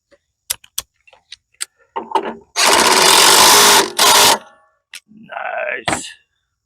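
A socket wrench ratcheting while working on an MTD lawn tractor during a rebuild: a few sharp metallic clicks, then two long buzzy ratcheting runs and a shorter one, close and loud.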